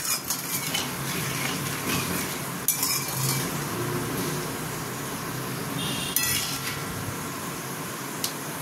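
Garam masala sizzles in hot oil while a metal spoon scrapes and clinks against the pan, making steady frying hiss and sharp clatters at intervals.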